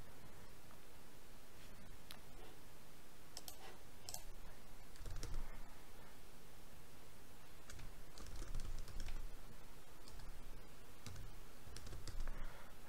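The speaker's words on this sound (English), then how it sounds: "open a terminal. Type nano etc space" A terminal command is typed on a computer keyboard, with bursts of quiet, close key clicks separated by short pauses over about thirteen seconds and no one talking.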